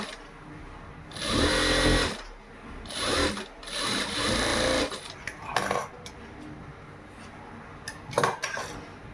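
A sewing machine stitches thread piping onto a sleeve with attached lining, running in several bursts of rapid mechanical whirring separated by pauses and small clicks and handling noises, close by.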